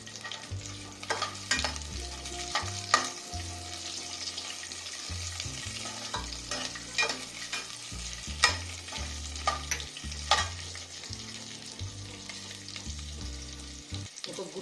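Cashews frying in oil in a pan for chicken fry biryani, a steady close sizzle broken by repeated stirring scrapes and clinks of a spoon against the pan.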